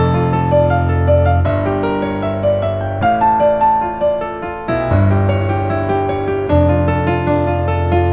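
Sustained dissonant Baroque organ-style chords on a keyboard change every second or two in a slow, stately progression, played alone and fairly loud.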